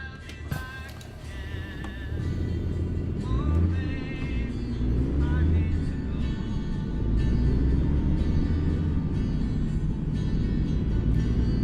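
A 450-horsepower truck engine in American Truck Simulator drones steadily at a low pitch, its revs rising and falling slightly through gear changes, after a brief click at the start.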